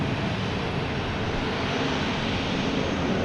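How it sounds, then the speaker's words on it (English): Jet airliners taking off and landing at Boston Logan Airport produce a steady, loud, broadband roar that holds evenly throughout with no talk over it. "standing here, hearing the jets taking off and landing, it's a beautiful sound."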